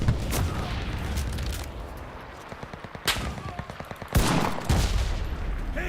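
Rapid gunfire fills a video game battle over a control point, with bursts of automatic fire and heavier booming shots layered into a loud, busy soundscape.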